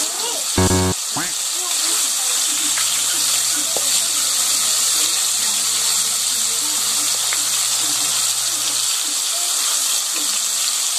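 Chicken pieces frying in a pan over high heat, a steady close sizzling hiss running through the whole stretch, with a brief clatter near the start and light handling noises.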